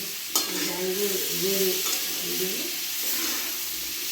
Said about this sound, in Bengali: একটু লাড়াচাড়া করে নিতে হবে আগে যাতে এই আমগুলো যাতে কড়াইতে বসে না যায়